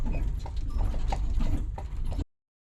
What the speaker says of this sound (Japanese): 本当にパッカパッカ音が鳴るんですね。